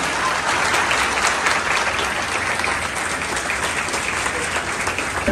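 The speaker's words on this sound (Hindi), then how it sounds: "एक बार परवेज अख्तर सर के लिए जोरदार ताली।" Sustained, loud applause from a large audience at a coaching institute anniversary event, honouring a police DIG guest; dense steady clapping fills the whole stretch with no talk over it.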